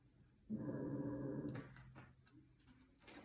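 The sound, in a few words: person imitating a dog's low growl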